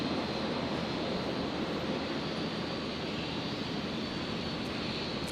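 Qantas Link Dash 8 Q400 turboprop landing on runway 01 right at Brisbane, a continuous broadband engine rush heard alone at moderate distance, steady and unbroken.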